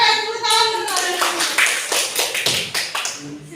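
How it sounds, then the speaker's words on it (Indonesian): A group of children claps hands together in a classroom in a steady run of taps, close and fairly loud, with a voice speaking over the start. "Oke, tepuk tangan bersama."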